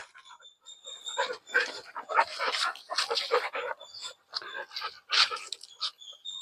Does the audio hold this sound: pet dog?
yes